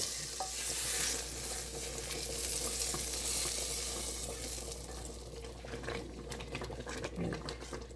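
Hot tadka tempering sizzles steadily as it is stirred into whole green moong dal, a close, continuous hiss with scraping spoon sounds.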